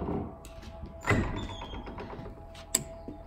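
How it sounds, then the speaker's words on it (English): A door closes inside an abandoned building in a ghost town, with a dull thump near the middle and a sharper knock shortly after, over quiet room noise and scuffling. "We're just gonna close this door."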